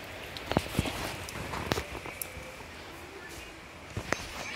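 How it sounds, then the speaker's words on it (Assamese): Heavy monsoon rain during a Bihu outing in Assam, a steady broadband hiss with scattered sharp drips and splashes close by and no voices. "যোৱাকালিৰকে আজি বেছি দিছে বৰষুণ।"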